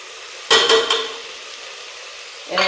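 Carrots with turmeric, chilli and chicken masala powders are sautéed for egg biryani, a low background sizzle broken by a few short bursts of stirring and pan scraping, one near the start and another at the end.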